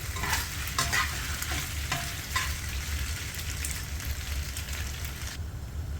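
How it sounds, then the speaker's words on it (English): Steady sizzling in a pan on low heat with occasional scraping stirs, pasta stir-frying continuously throughout. "Now she's stir frying it slightly on low heat."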